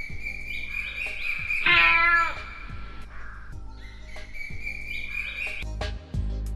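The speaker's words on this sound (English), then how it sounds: "In the morning, the cat mewed." A cat gives one drawn-out meow, set among soft whistling tones and light background sounds.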